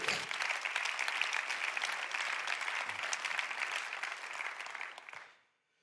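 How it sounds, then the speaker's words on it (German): Congregation applauding during a church service, a dense, steady patter of many hands lasting about five seconds before stopping abruptly into silence. "lass uns Gott einen Applaus geben"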